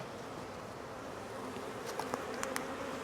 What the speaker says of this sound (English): Immediately thousands of bees.